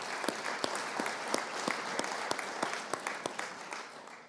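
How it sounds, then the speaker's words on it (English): An audience at a community summit for the Westside Future Fund's tenth anniversary claps in a sharp, scattered round of applause, close and steady for a few seconds with no voices. "that is worthy of a clap and a round of applause"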